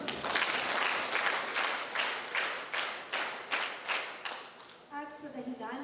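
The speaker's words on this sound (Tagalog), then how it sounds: "10 palakpak po." Congregation applause at a livestreamed Catholic Mass, dense clapping from many hands lasting about five seconds, then fading as a voice begins speaking.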